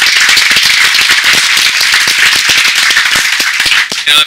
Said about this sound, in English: So another round of applause for those that have partnered with us.